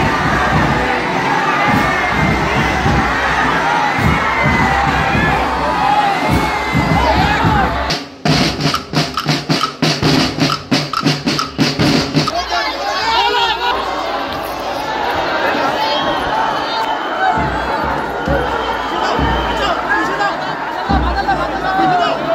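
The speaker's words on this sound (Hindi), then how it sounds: "यहाँ इनकी एक झलक पावा खातर गंज भीड़ जुटी" A large, dense crowd in Ujjain gathered to glimpse Syedna Saifuddin, loud continuous chatter and shouting with cheers and children's voices, a roaring hubbub that never lets up.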